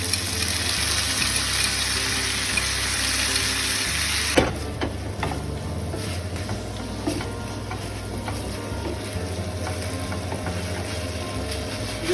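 Paneer cubes and veggies stir-fried in a pan with sauce being added, a steady sizzle that drops after a clatter partway through, followed by softer frying and scraping stirs, close with no talking.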